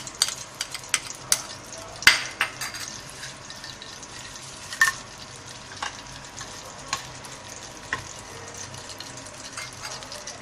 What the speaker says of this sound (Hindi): अब हम तड़का लगाते हैं दाल के अंदर, बघार देते हैं।